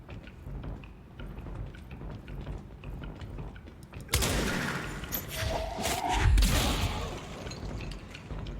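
Rocket launcher explosions in a video game boom out as a sudden loud blast with rumbling debris and mechanical clatter, following a quieter stretch of game noise.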